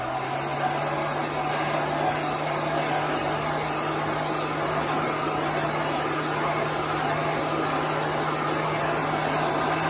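A hair dryer blows air steadily to dry a chalk transfer in a crafting setup, a constant loud whirring hum with a low tone running unbroken throughout.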